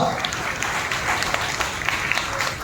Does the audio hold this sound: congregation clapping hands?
yes